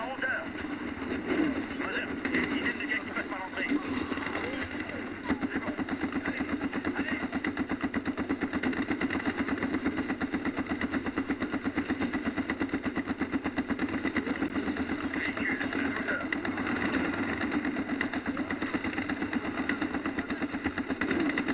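A vehicle engine in Medal of Honor (2010) drones steadily at mid pitch and holds a constant loud rumble throughout, with a voice talking over it.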